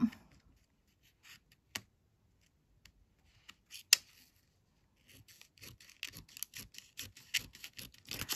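Paper being cut with scissors during a craft project, a few isolated snips and rustles at first, then a quick run of close, sharp cutting clicks.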